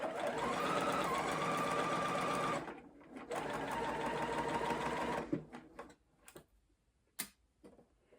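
A sewing machine stitches fabric along a curve, its rapid steady whirr running continuously, pausing briefly, then resuming before stopping, followed by a few faint clicks and handling sounds.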